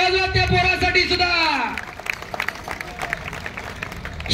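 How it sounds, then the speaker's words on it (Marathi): A crowd at a village wrestling bout near Bhosari, Pune, breaks into applause for a young wrestler, a busy patter of clapping that follows a stretch of amplified speech. "एकदा टाळ्या वाजवा त्या पोरासाठी सुद्धा"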